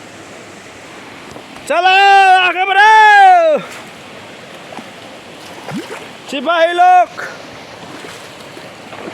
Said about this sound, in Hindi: पानी है भाई, पानी, पानी के अंदर पत्थर है